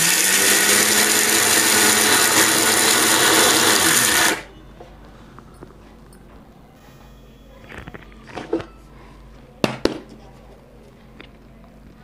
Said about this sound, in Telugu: జస్ట్ మిక్సీకి వేస్తాను.